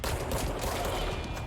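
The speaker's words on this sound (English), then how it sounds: "Who's shooting me?" Rapid, dense gunfire from the video game Control, a sustained barrage of shots that stays loud and near for the whole stretch, with no voices over it.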